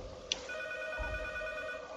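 A telephone rings in the horror game P.T. from Silent Hills. Steady electronic ring tones start a moment in and hold for about a second and a half over a low hum, with a brief sharp click before the ringing.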